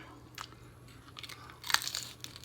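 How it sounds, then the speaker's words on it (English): Several crisp crunching bites into a crispy crust, close and fairly quiet, the loudest burst arriving near the end over light background noise. "Hear that crunch?"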